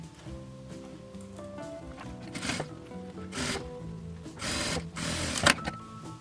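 Sewing machine stitching the lining of a zipper pouch: a steady mechanical whirring hum in close bursts of varying pitch, with short louder stretches as the fabric is fed through.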